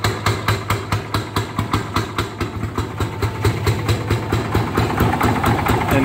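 A Fairmont MR19 rail speeder engine idles close by, a loud, even single-cylinder chugging at a steady quick rhythm, with a low hum underneath.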